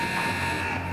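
Ice hockey period-end buzzer at a junior varsity game, a loud, steady electronic tone held for the full second over arena background noise.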